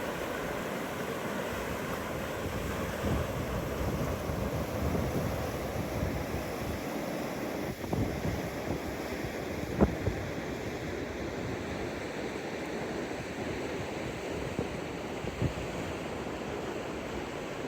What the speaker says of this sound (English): listen to the soothing sounds of the rushing